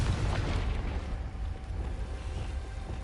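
A Confringo spell explosion in Hogwarts Legacy, a single loud, dense, rumbling burst that fills the clip and slowly fades into a low roar, heavy in the lows, with no speech.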